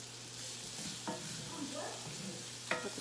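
Onions and sweet potatoes cook together in a pan with a low steady sizzle, broken by a few soft stirring scrapes and clinks of a utensil, close and without talk.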